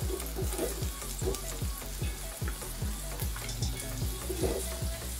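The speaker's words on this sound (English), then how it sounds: "we are going to add cooking oil. Then add our onions." Onions cut into rings frying in cooking oil for kuku bahati chicken curry; a dense, steady sizzle crackles up close, with rapid repeated scraping or tapping running underneath.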